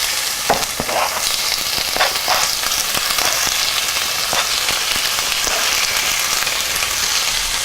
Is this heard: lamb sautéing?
yes